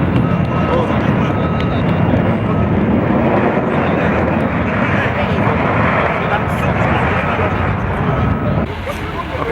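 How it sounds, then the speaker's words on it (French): An airplane lands at Ouagadougou international airport, a loud, broad roar of jet engines that holds steady for several seconds before easing slightly at the end, with voices faintly mixed in. "l'avion atterrit ici à l'aéroport international de Ouagadougou"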